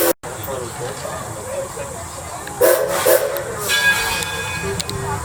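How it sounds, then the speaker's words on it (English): A steam whistle on the Edison No. 1 train at Greenfield Village, a hissing, rising blast that swells midway and holds steady toward the end, over the rumble of a moving train with voices nearby. "the engineer will blow the whistle, letting you know it's safe to exit on the left-hand side"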